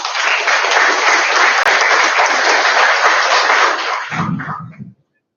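Loud, close applause from a lecture audience on nanotechnology for sustainable energy, steady clapping that fades out abruptly at the end, followed by brief murmuring.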